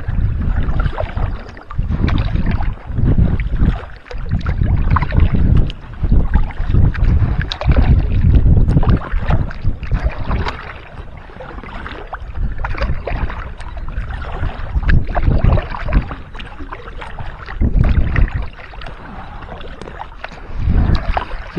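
An Intex Explorer K2 inflatable kayak with a DIY solid floor is paddled on water in Scotland, with repeated splashing paddle strokes over steady wind rumble against the microphone.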